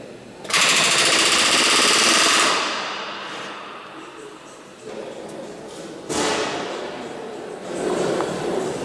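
Pneumatic rivet gun with a button snap working on the airframe of Lancaster bomber NX611 during restoration, loud rapid hammering bursts in a workshop, with people talking around it.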